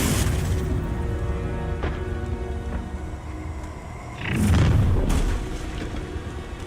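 A Confringo fire spell detonates in the game Hogwarts Legacy, a deep rumbling boom swelling midway over a dense background of game ambience, with no one talking.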